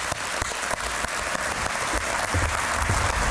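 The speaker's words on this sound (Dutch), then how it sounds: "Dames en heren, graag een groot applaus voor Mr. Cool Cat, Roland Kaan." Audience applause at a Dutch television show as a guest is introduced, a dense, steady burst of clapping from a crowd, loud and continuous for a few seconds.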